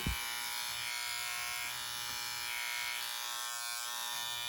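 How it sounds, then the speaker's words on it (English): Uno Gamma+ single foil electric shaver running with a steady, close electric buzz and hum, starting with a brief click and continuing alone without talk. "this is a very good mobile shaver, a very good single foil shaver"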